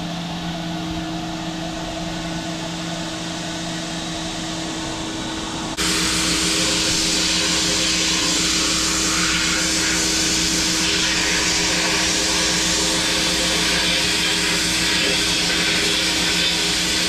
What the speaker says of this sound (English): this one is gonna go into our sandblaster here.